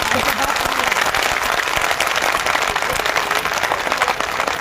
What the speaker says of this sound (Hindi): एक बार जोरदार ताली बजा दीजिए